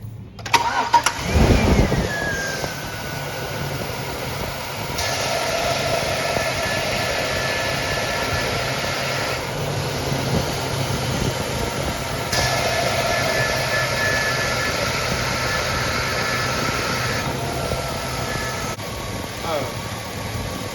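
A car engine idles steadily throughout during a leak check, with a starter crank near the start and people talking over the running motor.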